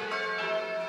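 Steady ringing of a church bell from a bell tower in Cookham, a sustained metallic tone with lingering overtones, fairly loud and continuous with no voices.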